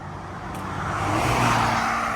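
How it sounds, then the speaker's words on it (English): A car swishes past on a road nearby with a rising whoosh of tire and engine noise that peaks near the end. The cars are Teslas without license plates, and no one speaks. "3 Teslas just went by with no license plates"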